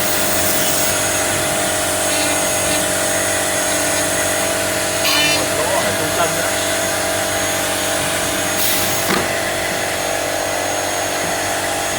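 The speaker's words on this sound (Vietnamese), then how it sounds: "nó sẽ khoan thôi hai lỗ ở đây và nó sẽ khoan thêm một lỗ ở giữa ở đây" A CNC-250B2 horizontal drilling machine with infrared positioning bores holes into wood. It gives a loud, continuous whirring machine drone with a couple of brief sharper bursts as the bits cut, and no talking.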